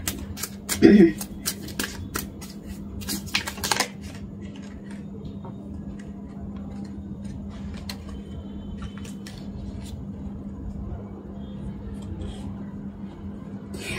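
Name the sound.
shuffling and drawing tarot cards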